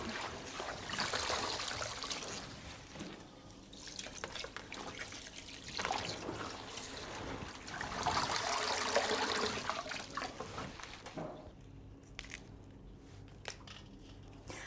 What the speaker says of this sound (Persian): امروز فشار آب کمه